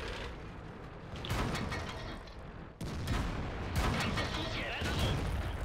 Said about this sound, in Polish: Trzeci strzał.